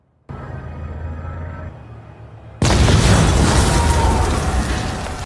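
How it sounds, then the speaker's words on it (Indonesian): A tense low rumble in a movie scene gives way to a sudden, massive explosion at a parade that roars loudly and keeps crackling and rolling for several seconds. "namun sesaat kemudian ledakan dahsyat terjadi"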